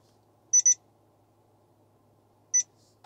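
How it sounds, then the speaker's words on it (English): A Valentine 1-style radar detector powering up on a USB-C to RJ-11 adapter gives two quick high beeps, a pause, then a third beep, clean and close. "Now our radar detector powers up and there's no issues at all."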